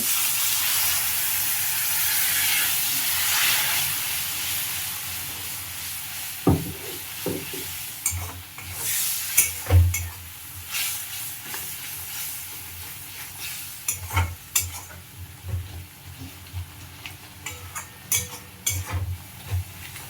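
Spice masala for egg curry sizzles in oil in a pan with a loud, steady hiss that settles into uneven frying crackle and repeated stirring scrapes, with no talking.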